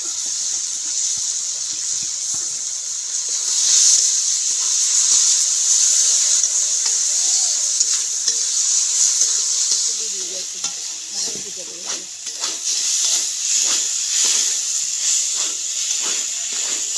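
Moong and masoor dal stirred and fried in oily spice masala for a Bengali dal tadka, a loud continuous sizzle with frequent scraping spoon strokes, stronger toward the end, no talking.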